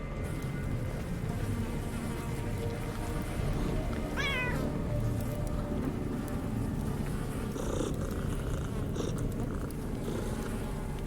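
A cat in the video game Underrail purrs and lets out a short meow amid a steady buzzing, insect-like ambience, all at a constant level with no talk.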